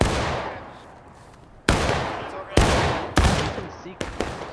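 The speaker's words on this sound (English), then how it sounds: "Confederates have come to counter them though, exchanging fire." Musket volleys crackle and boom in a large multiplayer battle game, with several loud, near shots at irregular intervals, each trailing into a long decaying roar of distant gunfire.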